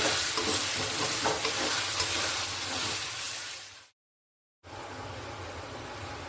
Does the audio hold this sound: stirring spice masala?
yes